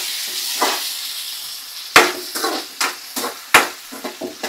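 Green chillies fry in a pan, with soft scraping and stirring strokes landing in a loose rhythm over a steady background hiss.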